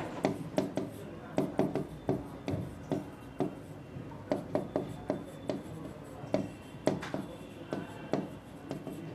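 Chalk or marker taps and scratches against a classroom board in a steady, busy rhythm of short strokes, close and fairly quiet, with no talk over it.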